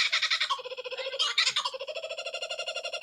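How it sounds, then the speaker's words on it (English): A loud, raucous kookaburra call of rapid repeated cackling notes rising and falling in a rhythmic chatter, close by and with no talking. "I wanted you to hear what a kookaburra sounds like."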